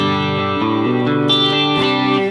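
Les Paul electric guitar in the middle pickup position through a Fender Twin model on a Fractal unit, with compression, reverb, delay and light chorus, played as sustained chords that shift every half second or so, loud and close.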